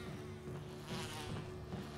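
Bee buzzing in the video game Resident Evil HD Remaster, a faint continuous insect drone with slight pitch wobble, steady and quiet with no talk.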